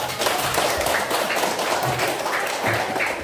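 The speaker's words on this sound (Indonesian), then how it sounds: "Ya, tepuk tangan dong." A classroom audience applauds, producing a dense, steady wash of many hands clapping at once that holds at an even, moderately loud level throughout.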